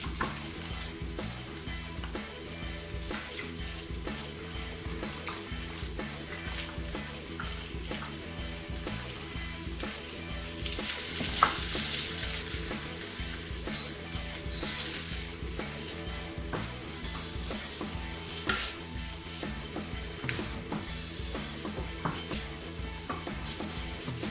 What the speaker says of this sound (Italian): Dopo circa 5 minuti aggiungo il salmone.